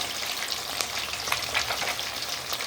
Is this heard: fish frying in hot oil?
yes